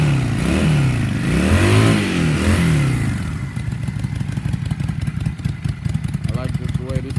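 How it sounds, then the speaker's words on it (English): A 2005 Honda VT600 Shadow VLX motorcycle revs loudly up close, its exhaust rising and falling in two long swells before settling into a rapid, lumpy idle. "what I'm gonna do is I'm gonna rev it up a little bit just so you can hear that exhaust"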